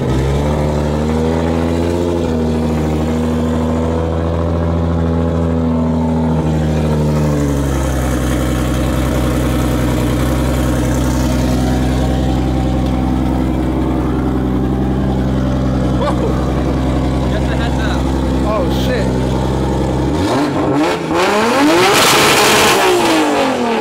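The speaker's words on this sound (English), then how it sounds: "Mr. Literal, may we hear your car, please?" An 800-horsepower party car with a rear-mounted radiator idles with a deep, lumpy rumble, climbs through several revs, then settles before a sharp burst of throttle near the end, loud and close.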